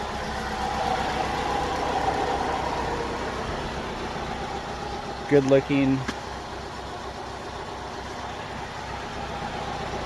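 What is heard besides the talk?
car engine idling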